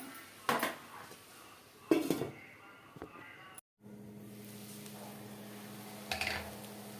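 Metal cookware clatters a few times as a lid is set back on a cooking pot of drumstick curry, separated by short quiet stretches and a low steady hum, close and fairly faint.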